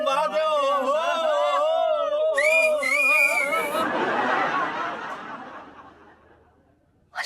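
Several loud wavering whistles ring out in a street over chatter and snickering, then fade into a broad rushing noise that dies away.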